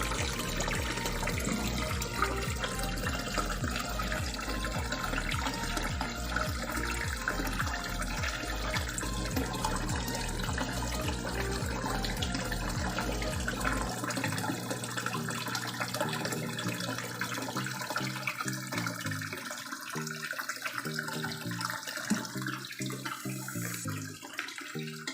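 Water gushes and splashes continuously through a homemade aquarium filter and hose built from a scrap refrigerator, a steady loud burbling flow with a pumping rhythm early on that smooths out later.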